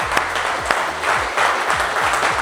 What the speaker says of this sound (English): Hey, give this man a round of applause.